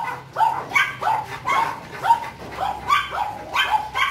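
Several dogs bark steadily in quick succession in a kennel in Baguio City, the barks overlapping and fairly close, with no talking.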